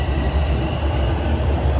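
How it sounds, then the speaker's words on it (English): A TTC subway train rumbles into Highway 407 station, a loud, steady low roar of wheels and motors close by. "here comes the southbound train that's just hopped on"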